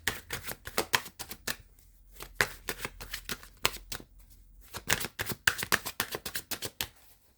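A deck of tarot cards is shuffled in quick bursts of crisp riffling and slapping, close and clear with short pauses between rounds, and no voices.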